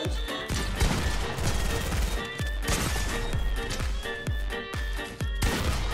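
Hunting rifle shots in a video game, roughly seven heavy booming reports spaced about a second apart over busy, loud in-game noise.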